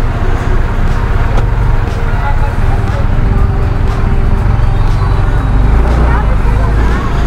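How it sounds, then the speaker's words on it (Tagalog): Road traffic passing a school in a Philippine heritage town, heard from a Yamaha NMAX 155 scooter: a steady, loud rumble of nearby cars and engines with a continuous low drone and faint background hubbub throughout. "So eskwelahan pala to, kaya medyo nagta-traffic dito."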